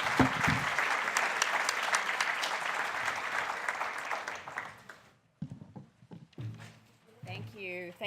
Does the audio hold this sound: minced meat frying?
no